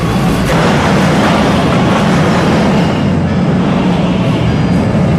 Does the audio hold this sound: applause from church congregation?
no